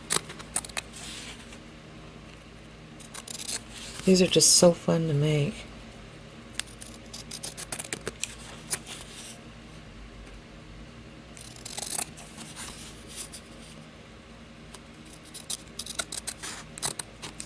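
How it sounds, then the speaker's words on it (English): Scissors snip through dried fabric while someone makes no-sew Christmas tags, with a close burst of cuts partway through and scattered lighter snips. A person talks at the start. "I'm just going to cut this right along here with my scissors"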